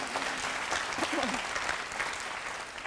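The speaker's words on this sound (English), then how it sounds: "Yes, you can clap for that." Lecture audience at the University of Washington claps steadily throughout, a dense, even wash of applause from a sizable crowd with no break.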